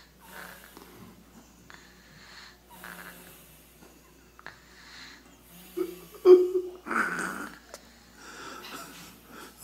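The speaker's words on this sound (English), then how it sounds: "I think that's a snore." A child asleep in a doctor's office snores softly, with faint, irregular snorts and wheezy breaths in a quiet room, plus a few louder rustles and bumps near the end.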